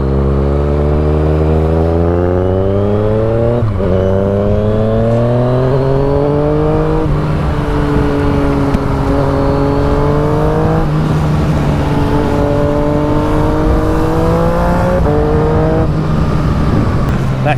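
A Yamaha FZ-09 motorcycle cruises on the highway, its engine droning loud and steady with rising pitch sweeps through gear changes and quick-shifted upshifts, wind rush underneath, and a rider's voice talking over it.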